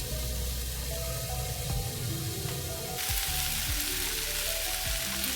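Potato pieces frying in oil in a pan give a continuous close hiss and crackle, with a lid clattering and bumping against the pan partway through and brightening the sizzle after.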